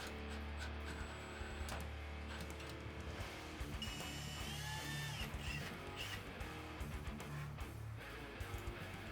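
Power drill driving screws into drawer slides on a wooden night table build, a short busy run of whirring motor and mechanical clatter with a few high squeals, heard close and alone.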